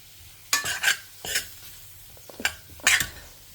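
Ingredients for a sambar with amaranth greens and banana flower are stirred in a pan, a handful of distinct scraping strokes with a light sizzle between them, close and fairly quiet, no voices.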